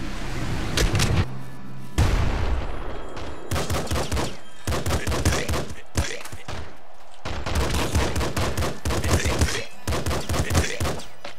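Rapid pistol and shotgun fire from the video game Nuclear Throne, loud and dense bursts of shots separated by brief gaps, with game music and effects mixed in and no talk.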